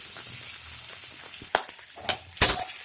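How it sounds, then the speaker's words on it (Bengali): Chopped tomato and onion fry in a pan with a continuous soft sizzle, broken near the end by a few louder scraping stirs, close up and without talk. "টমেটো পেঁয়াজ কুচিটা একটু ভাজা ভাজা হয়ে এলেই"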